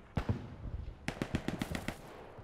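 Video game gunfire: a couple of sharp shots open, then a pause, then a run of rapid automatic bursts cracks out at close range, fairly loud with no talk over it.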